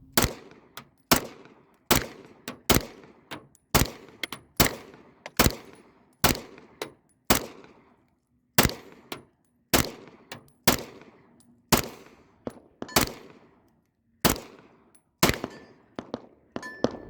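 Springfield Armory XD Mod 3 pistol firing a magazine of rounds outdoors, sharp loud shots at an irregular but steady pace with short pauses, each crack followed by a brief ringing echo.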